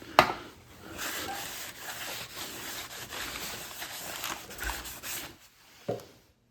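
Oil wiped off a clutch pressure plate for a 97 Mustang Cobra install, soft irregular rubbing strokes up close, opening with a sharp knock and ending with another clunk.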